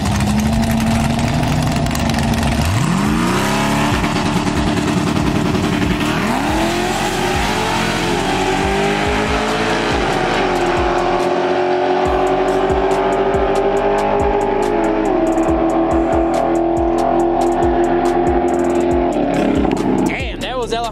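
A Mustang and a Camaro, both with bolt-on modifications, drag race. Loud engines idle and then rev hard, pitch climbing as the cars launch and pull away, with crowd voices mixed in under the roar.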